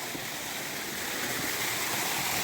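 Irrigation water from a stream, channelled to village paddy fields, makes a steady, broadband rushing flow, close and continuous, with no voices.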